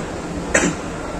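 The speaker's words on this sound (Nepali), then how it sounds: "खोकी लगाइरहेको छ" A single short cough, close by and brief, rises over a quiet indoor background.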